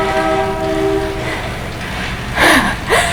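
A passing train sounds its horn in a long steady tone, then rumbling and two loud whooshing bursts rush past close by.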